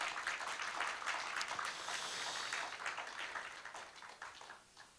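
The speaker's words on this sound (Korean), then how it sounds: "여러분 동의하시면 박수 한번 주십시오" Applause from an audience at a Korean conservative political forum, a dense wash of many hands clapping that is moderately loud at first, then thins and fades toward the end with no voices.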